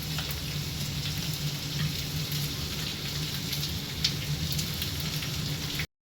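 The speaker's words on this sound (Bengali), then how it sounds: "আবার কিছুক্ষণ ভাজবো যাতে টমেটোগুলো ভাজা হয়ে যায়।" Tomatoes frying in a kadahi for a fish kadahi dish give a steady, close sizzle with a dense crackling hiss that holds evenly throughout, with no voices.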